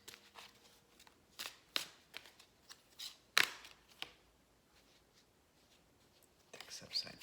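Tarot cards shuffled by hand in a few quick, crisp riffles and snaps, close and fairly faint, with soft rustling pauses between bursts and a whispered voice nearby.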